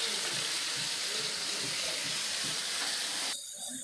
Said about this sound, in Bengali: কড়াইতে তেল গরম হচ্ছে, কিছু মাছ দিয়েছি ভাজা করতে